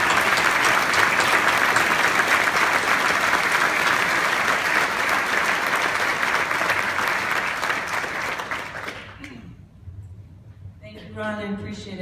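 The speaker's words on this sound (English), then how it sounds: "please join with me in giving Rod a great round of applause for all he's given to HIF" An audience at a summit gives a long, dense round of applause that holds steady, then thins and fades out. A few brief voice-like sounds follow near the end.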